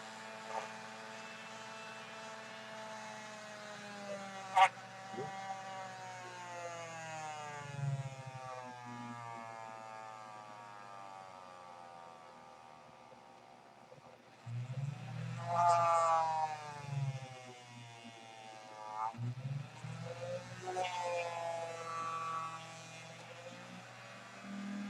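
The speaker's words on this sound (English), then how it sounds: "now we've got our Dremel tool. It's gonna be a little loud this time" A Dremel rotary tool whirs through a model kit, its high tonal whine gliding up and down in pitch as speed changes, with louder bursts of grinding near the end and no talking.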